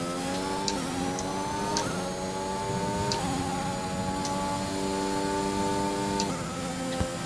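A Ferrari Formula 1 car engine in a racing video game, a steady high engine drone with layered harmonics that dip and climb through gear changes, marked by regular clicking shifts and no speech.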